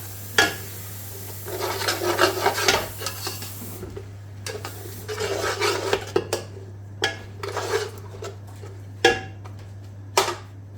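Finely ground onion and tomato gravy is stirred and fried in a pan, a spoon scraping and knocking against the metal in irregular bursts over a steady low hum.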